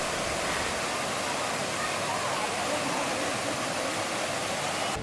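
A waterfall in Hong Kong Park pours in a steady, loud, close rush of white water that never lets up, with no voices rising above the roar.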